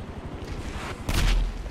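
A single loud gunshot in GTA Online lands near the end as a heavy, booming blast after a low rumbling lead-in, with no other shots around it.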